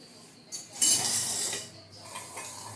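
A spoon stirs chili powder into Kathiyawadi olo in a metal pot, giving a few close scraping clinks and rattles that swell and fade over a couple of seconds, with no voices.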